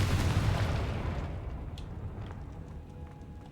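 Confringo blasting-spell explosion in Hogwarts Legacy, a single loud low boom at the start that rumbles and slowly fades out over a few seconds.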